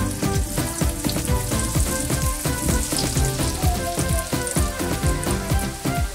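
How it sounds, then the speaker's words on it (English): A piece of fish sizzles as it lightly fries in a pan, a continuous dense crackle and spatter of hot oil heard up close with no talking. "You're just gonna lightly fry this"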